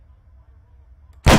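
A single loud, sharp rifle gunshot from an ARMA 3 video game cracks out near the end after a low, quiet background hum, short and close with a brief burst of energy.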